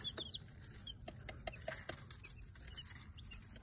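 Chickens pecking at a plastic object, a scatter of light close taps and ticks over a low steady background, with faint clucks mixed in.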